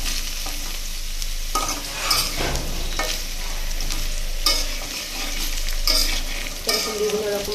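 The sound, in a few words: frying and stirring vegetables with lentils in a pan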